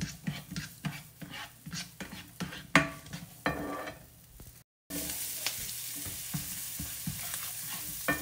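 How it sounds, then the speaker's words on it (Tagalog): Chopped onion frying in a pan: steady sizzling with repeated scraping stirs of a utensil against the pan, a short silent break midway, then a softer continuous sizzle. "ilagay na natin yung onion guys na hiniwa natin kanina"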